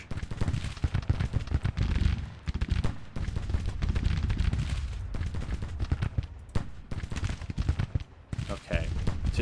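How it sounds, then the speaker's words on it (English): Volleys of flanking rifle fire in the American Civil War strategy game Grand Tactician: The Civil War, dense crackling shots rolling on without pause, with occasional heavier booms and a voice talking over them. "Yeah, they're not liking that flanking fire."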